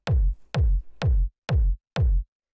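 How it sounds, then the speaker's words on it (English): A big punchy techno kick drum hits five times at a steady pulse about half a second apart. Each hit is a deep, booming thump with a sharp click on top and a short decay, heard clean and alone. "It's just like this big punchy kick."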